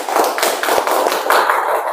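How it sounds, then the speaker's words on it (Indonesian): A small group of students claps in a classroom lesson, a close, uneven run of sharp hand claps with a few distinct slaps standing out. "Beri tepuk tangan, bagus sekali."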